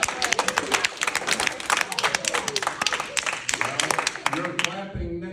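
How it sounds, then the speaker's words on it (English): Audience clapping breaks out at a Rural Hall town meeting on a data center resolution, a dense patter of many hands with voices mixed in, thinning out near the end. "You're clapping now"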